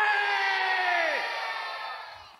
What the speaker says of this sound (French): On pousse des grands cris.